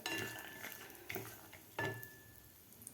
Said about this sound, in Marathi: मिडियम गॅसवर आपल्याला हे ड्रायफ्रूट फ्राय करून घ्यायचे आहेत.